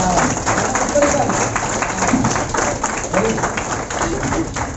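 Applause from a meeting audience at a DP center in Bhojubir, Varanasi, a steady, fairly loud wash of clapping for a few seconds with some speech mixed in.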